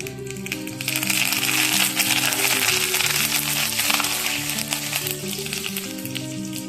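Peanuts and curry leaves frying in a pan for Khandeshi-style brinjal bharit, a loud, continuous hiss and crackle of hot oil, with a low steady tonal hum underneath throughout.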